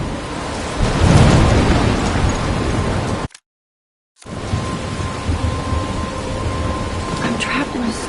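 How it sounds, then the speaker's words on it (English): Thunderstorm in the video game Life is Strange, a loud rolling thunder rumble over steady rain and wind, cut by a second of total silence before the storm noise resumes. "I'm trapped in a storm?"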